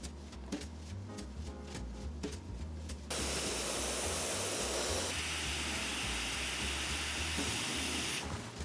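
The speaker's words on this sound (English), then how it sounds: "Cold spray." Cold spray hisses steadily from a can while a chocolate spider is assembled for Halloween, a loud continuous broadband rush starting partway through after softer music-like sounds, with a brief change midway.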